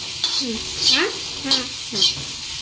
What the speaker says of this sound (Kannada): ಈಗ ಉಳ್ಳಾಗಡ್ಡಿ ಟಮಾಟೆಯನ್ನು ಫ್ರೈ ಮಾಡ್ಕೊಳ್ಳೋಣ